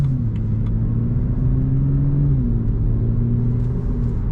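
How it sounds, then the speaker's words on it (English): Steady low exhaust drone from a BMW E92 335is with its stock M Sport exhaust and DCT gearbox, heard from inside while cruising, with a continuous rumble that rises slightly in pitch and then settles back. "this car's exhaust sounds so good"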